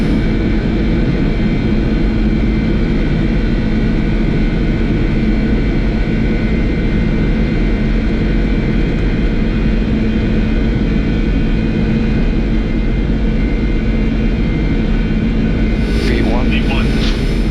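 Boeing 747-400 jet engines roar at takeoff thrust as heard from the cockpit, a loud, steady, unbroken rumble and whine filling the whole stretch.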